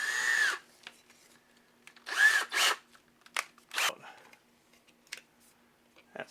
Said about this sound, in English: And then I'm just going to drill right into my table.